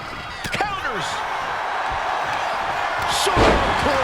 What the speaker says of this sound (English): Short clothesline.